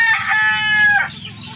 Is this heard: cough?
no